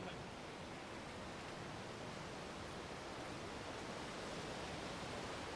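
Steady, dense roar of water rushing through a dam, broad and unbroken throughout, like a heavy flow pouring through an outlet, with no voices.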